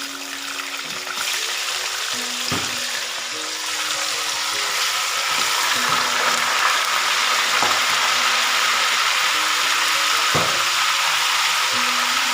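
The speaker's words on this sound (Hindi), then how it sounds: "तकरीबन 4 से 5 मिनट मैं ऑयल के अंदर ही चिकन को फ्राई कर लूँगी" Pieces of chicken, about 1.5 kg in all, fry in hot oil in a karahi for a Shinwari chicken karahi, giving a steady, fairly loud sizzle with a few sharp clanks and knocks. No one talks.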